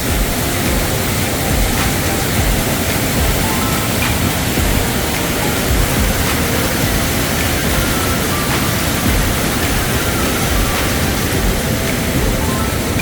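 A steady, loud rush of falling water from a waterfall at Nong Wai Dam in Khon Kaen, Thailand, roars without pause, a dense, broad wash of sound close by.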